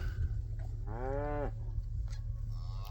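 A single cow gives one clear, mid-distance moo on a snowy Missouri farm in winter, set against a steady low engine rumble from a nearby idling truck.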